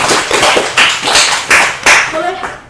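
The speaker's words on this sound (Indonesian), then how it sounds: "Tepuk tangan dulu dong." A crowd applauding members of a school Red Cross youth team, several bursts of clapping rising and fading over under three seconds, close and loud, with voices mixed in.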